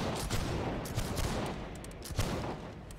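A musket volley and scattered follow-up shots in the Napoleonic-era game Holdfast: Nations at War, rattling as a fairly faint, distant crackle of several reports over a few seconds.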